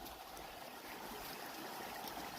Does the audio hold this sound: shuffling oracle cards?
no